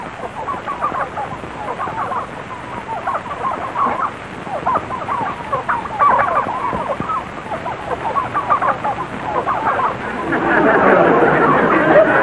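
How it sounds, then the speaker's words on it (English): A flock of turkeys on a farm gobbles and clucks in a busy, continuous babble, swelling louder toward the end, while people converse nearby. "Nice crop of turkeys you got there."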